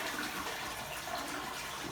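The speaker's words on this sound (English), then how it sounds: "You would flush the urine sample" A toilet flushes a urine sample away in a clinic setting, giving a steady, close rushing gush of water that continues without pause, with no talk.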